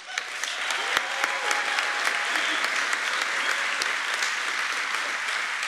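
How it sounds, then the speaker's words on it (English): A crowd at Detroit's State of the City address claps steadily and loudly throughout, a dense wash of applause with a few sharper individual claps standing out. "I'm going to ask you to hold your applause to the end"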